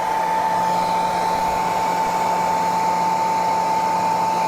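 A hair dryer heats wax on waxed canvas Burley saddle bags, giving a loud, steady, close whir with a constant hum that runs unbroken throughout, with no talking.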